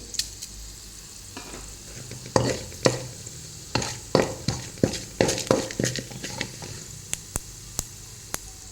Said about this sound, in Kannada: ಕಡಲೆಬೇಳೆ ಉದ್ದಿನಬೇಳೆ ಫ್ರೈ ಆದ ನಂತರ ಒಂದು ಅರ್ಧ ಚಮಚ ಜೀರಿಗೆ ಹಾಕಿ